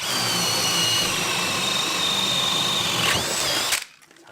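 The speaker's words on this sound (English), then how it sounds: "let's see how the HILTI performs. Speed 2 on drill" A Hilti cordless drill with an 8Ah battery bores into wood at speed 2, a loud, close, high steady whine that bogs slightly near the end before cutting off abruptly, with no talking.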